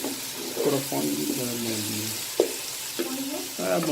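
Okra masala with freshly added tomatoes sizzles and frying steadily in a pan while being stirred, a continuous close hiss with small scraping stirs, and a voice talking over it.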